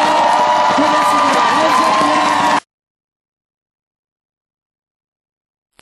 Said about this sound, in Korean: 자, 박수 박수 박수